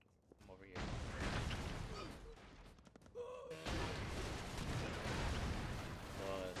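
Explosions in the Broforce video game go off in a chain, two heavy broadband bursts of blast noise sustained over several seconds with a brief lull between, loud and close, with a voice speaking faintly in the mix.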